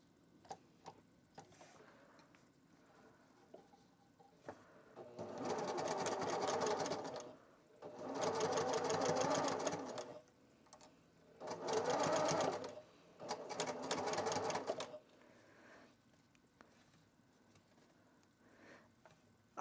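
A domestic sewing machine stitches fabric in four separate runs of steady, rapid whirring, each lasting a couple of seconds, with quiet gaps and light handling ticks between them.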